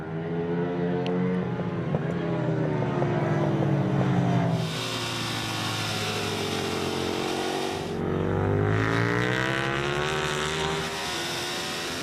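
Ducati and Kalex superbikes race on the Pannonia Ring, their engines screaming loudly with rising and falling revs as they brake and accelerate. The roar is continuous and close, with one machine dominating before another swells in.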